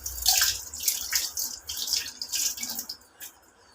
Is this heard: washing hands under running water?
yes